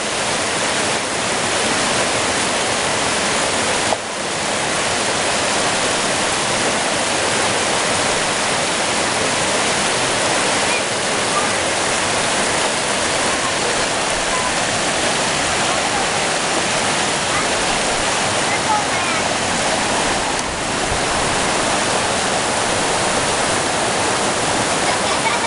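Rushing water of Naramata Creek and its waterfall along a hiking trail: a steady, loud, broadband roar that fills the whole stretch without a break, with no voices over it.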